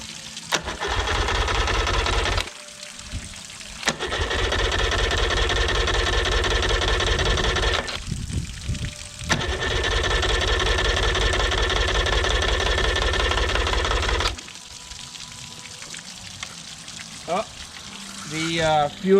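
A Yamaha 30 hp outboard with a repaired exhaust cranks and catches several times, running loud and close in long rough bursts separated by cut-outs and brief pauses, with a voice speaking near the end.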